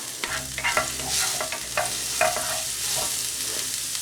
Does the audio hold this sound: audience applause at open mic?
no